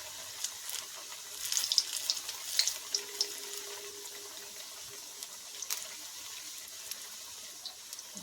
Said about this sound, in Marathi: ह्याला असंच थोडा वेळ तेलात तळू द्यायचं